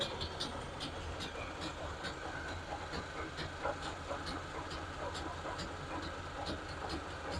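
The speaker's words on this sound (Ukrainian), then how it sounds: "Включив я змішувача, змішуємо зараз, перемішуємо препарат." A sprayer tank mixer churns herbicide solution inside a field crop sprayer on a soybean farm, giving a steady, loud mechanical whir with a constant engine-like hum and regular faint ticking throughout.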